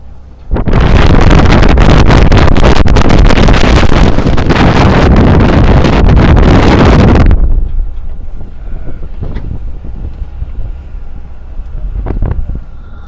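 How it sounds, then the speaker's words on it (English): Loud, roaring wind in Kutaisi, Georgia buffets the microphone for several seconds, then suddenly drops to a quieter gusty background with occasional thumps. "At the moment it's very windy, but warm."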